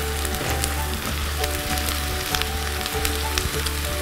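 Steady, dense sizzling of onions frying in hot oil over full heat, loud and close, with a constant crackle and no talking.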